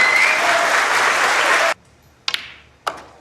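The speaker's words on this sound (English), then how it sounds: "And they were clapping before the blue went in." Audience applause at a professional snooker final between Ronnie O'Sullivan and Judd Trump, steady and full for under two seconds, then cutting off abruptly, leaving a couple of sharp, isolated knocks in near silence.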